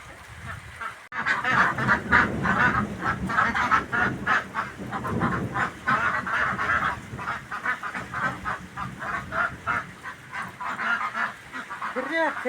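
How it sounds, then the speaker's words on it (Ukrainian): Ducks honk and quack in a noisy, continuous flock chorus, close and overlapping for the whole stretch. "кря-кря."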